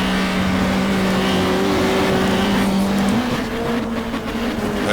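Super touring race cars, Peugeots and BMWs, lap the Lakeside circuit in the GTR2 racing game with a loud, continuous engine roar, the pitch climbing briefly midway as the revs rise, with no voices over it.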